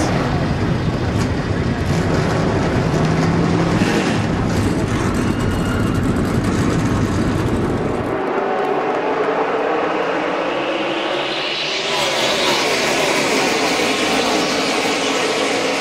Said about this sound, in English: Drivers, start your American ethanol-powered engines!